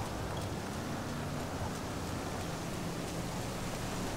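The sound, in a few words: heavy rain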